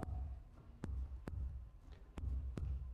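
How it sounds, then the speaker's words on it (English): A human heartbeat amplified through headphones, slow, deep thumps in a regular rhythm, about five beats, each a low muffled double pulse over a faint hum. "The headphones are amplifying their heartbeat."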